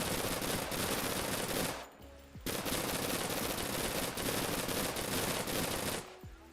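Rapid submachine gun bursts in the online game Persist Online, loud and dense, with two brief pauses between sustained strings of fire.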